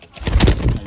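A decoy dove's low cooing call, close and fairly loud, with a short rolling phrase filling most of the moment.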